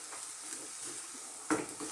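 Chinese cabbage and a large amount of ginger being tossed and stirred in a hot wok for a vegan stir fry, with a steady sizzle and one louder scraping toss near the end, no talk.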